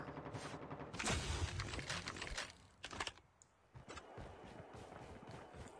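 Gunfire from a prone shooter in Call of Duty Mobile comes in rapid, close bursts of sharp cracks, loudest around the first and third seconds, with quieter rattling between them.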